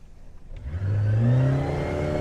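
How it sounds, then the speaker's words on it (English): A Suzuki 90 outboard motor on a 1998 Lund 1700 Pro Sport boat is opened up to full throttle, its engine note climbing sharply into a loud, rising roar that holds near and strong. "And then I'm gonna just full throttle it."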